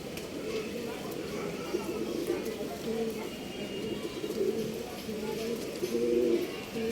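Pigeons cooing in a Bangalore bird-selling setting, repeated soft throaty coos under someone talking nearby, with faint chirps in the background.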